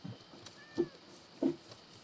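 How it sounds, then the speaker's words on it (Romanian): A cat in the Minecraft video game meows twice, short and fairly soft, with quiet game ambience in between and no talk. "O pisică, da."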